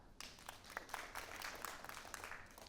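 An audience claps to vote for which of three recordings was the fake, at a live AI and elections discussion at a festival; scattered hand claps rise together and hold steady, faint and somewhat distant.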